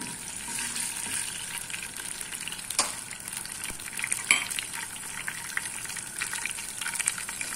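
Cumin, mustard seeds and chana dal frying in hot oil for a tempering, a steady close crackling sizzle with occasional sharper pops and a ladle stirring now and then.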